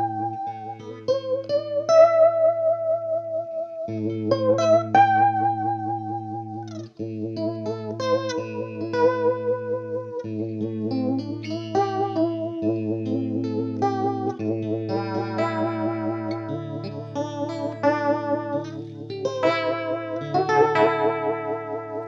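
A JL XC Vib Phaser guitar pedal colours a clean electric guitar phrase with a swirling, pulsing phaser and vibrato sweep, chords and single notes ringing loud and continuous for about twenty seconds with no talking.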